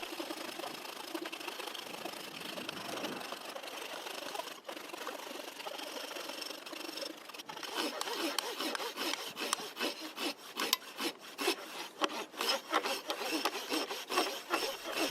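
Fine-bladed hand saw cutting a log, a close, continuous rasp that starts as smooth rubbing and then turns into quicker, sharper strokes that grow louder.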